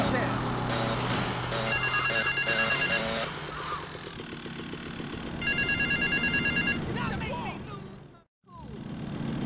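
Payphone at an airport terminal in Grand Theft Auto: Vice City rings in repeated electronic bursts, heard over steady traffic and engine noise with voices talking.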